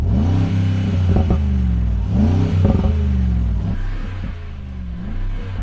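The engine of a Rolls-Royce Cullinan revs repeatedly, close and loud: a deep rumble climbs in pitch and falls back three or four times in a steady rhythm, with no talk over it.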